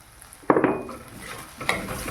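A spoon stirs cumin, turmeric, chili powder, sugar and salt into okra and tomato frying in a pan. Two scraping bursts come over a soft sizzle, with no talking.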